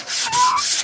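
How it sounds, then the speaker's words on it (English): Sandpaper rubs briefly across a candle from a DIY kit, a short close scraping stroke lasting under a second, heard alone. "I'm just sanding this really quick."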